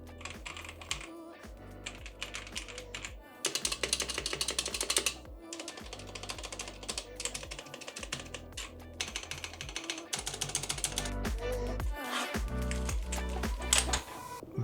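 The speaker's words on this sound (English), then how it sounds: "Here's a quick comparison of how those sound in this keyboard." Fast, steady clacking of keystrokes on an inexpensive mechanical keyboard fitted with new switches and no bottom foam, close and distinct, with short pauses between bursts of typing.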